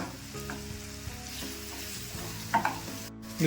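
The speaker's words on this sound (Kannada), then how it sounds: "ಇವಾಗ ಇದನ್ನೆಲ್ಲ ಎಣ್ಣೆಲ್ಲ ಬಾಡಿಸ್ಕೊಂಬಿಡೋಣ." Onion, green chillies, ginger and curry leaves sauté in hot oil for capsicum rice, giving a steady close sizzle with occasional stirring scrapes, and no voices.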